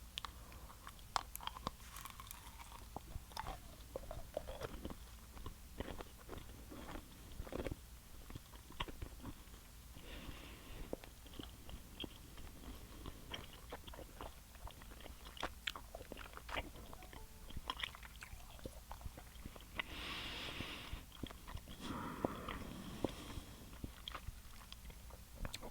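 Soft, quiet chewing and crunching of an orange-flavored gumball close to the mic, a steady run of small bites and wet mastication over low background hiss.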